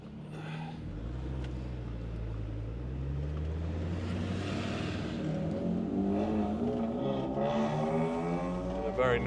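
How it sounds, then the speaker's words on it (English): A noisy BMW car drives and revs close by, a steady engine drone with rising and falling harmonics as it pulls away, loud throughout. "Very noisy BMW."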